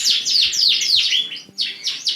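Bright, rapid Yorkshire canary chirps and trills repeat in quick bursts, close and clear, in a canary room, with a short pause before the song resumes.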